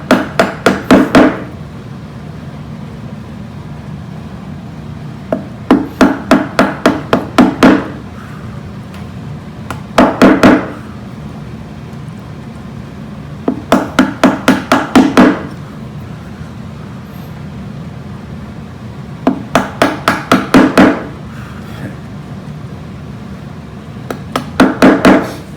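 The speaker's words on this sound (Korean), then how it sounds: "이번도 망치로 진행을 해볼게요" A mallet strikes a chisel repeatedly while cleaning out a mortise in a wooden board for joinery, with sharp, close taps in quick bursts of four to eight blows and short pauses between groups over a steady low background hum.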